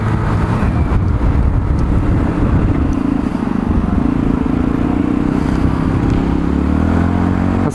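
A Sinnis Matrix 125cc four-stroke motorcycle being ridden, its engine a loud, steady drone close by with some rising pitch as it pulls, accompanied by constant wind and road rumble.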